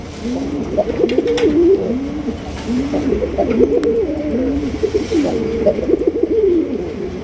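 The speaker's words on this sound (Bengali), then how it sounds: "লাল এক জোড়া কালারিং রাসগোল্লা কবুতর। ভাই রে ভাই, খালি একটু ডাকটা দেন, আর ডাকের সাউন্ড।" A pair of red Rasgolla pigeons at a farm coo repeatedly and close by, their soft, rolling calls overlapping in a steady rhythm with little else around them.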